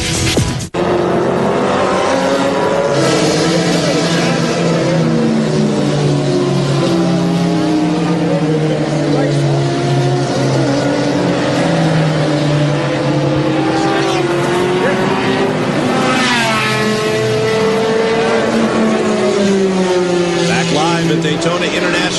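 Race cars at the Rolex 24 at Daytona 2001, a rain-washed sports car endurance race, loud engines sweeping up and down in pitch as they pass and accelerate, with overlapping cars and a commentator talking over them throughout.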